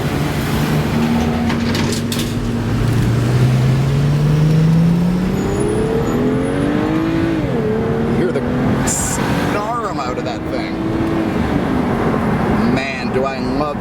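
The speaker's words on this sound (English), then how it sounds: "The sound of a turbocharged inline-6 3 Series spooling up." A turbocharged inline-six in a 2011 BMW 335i convertible (E93) revs and spools up, engine tone rising and falling through gear changes under a constant roar of road and wind noise, with talking mixed in.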